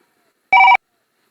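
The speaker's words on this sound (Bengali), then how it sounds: "এই সময় আবার কেটা ফোন করছে?" A telephone gives one short, loud electronic ring burst of bright layered tones, lasting about a quarter second, with silence on either side.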